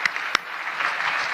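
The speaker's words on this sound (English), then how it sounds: "Dude, I can't believe Trump is trying to clap." Applause at a White House dinner, a short burst of scattered clapping with a couple of sharp individual claps standing out, brief and fairly close.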